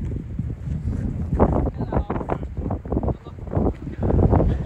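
Wind buffets the microphone on an outdoor football pitch during an amateur match, a constant low rumbling roar with gusty swells throughout, with voices talking over it.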